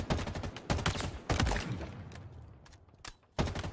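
Halo Infinite multiplayer burst-fire rifle shots, loud short bursts at irregular gaps separated by quieter stretches, close to the listener.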